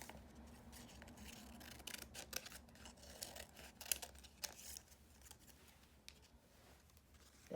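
Scissors snip through paper while a leaf shape is cut out for a collage card, with a quiet series of short crisp cuts and rustles close by.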